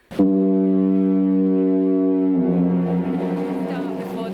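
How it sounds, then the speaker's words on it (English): A deep, loud compressed-air foghorn blast with a rich harmonic drone, sustained steadily for several seconds before shifting into a rougher, wavering tone. "the metal of that horn vibrating under the pressure of compressed air that comes from tanks"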